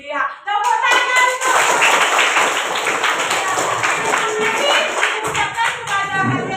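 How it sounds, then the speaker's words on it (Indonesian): Classroom children clapping hands together, a busy burst of sharp claps layered with young voices and chatter, fairly close and loud, running for several seconds. "tepuk tangan."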